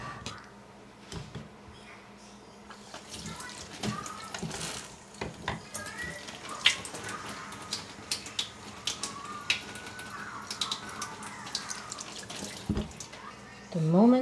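A small amount of water is poured into the soil of a freshly repotted houseplant, a soft trickle and scattered drips with light handling clatter, close and quiet.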